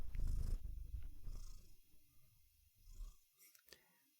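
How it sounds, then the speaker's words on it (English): Sushi, an old cat, purrs in a low, close rumble that is strongest at first and then comes and goes more faintly, with small rustles of movement near the end. "Get your purring."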